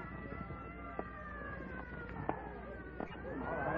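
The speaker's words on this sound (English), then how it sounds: "Clear the way for the ambulance." An ambulance siren in an old radio drama about a taxi case, a faint wailing siren held under a muffled street scene, rising slightly toward the end.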